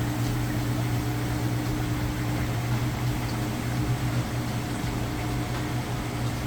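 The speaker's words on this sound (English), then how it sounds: "It's getting started. You can hear the drain running. Nice quiet operation." A Whirlpool HE top-load washing machine draining: a steady mechanical hum with a low motor drone and a faint watery rush, continuous and even throughout, no voices.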